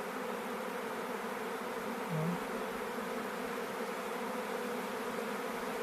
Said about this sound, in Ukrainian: О, як ринули. Весь рій сюди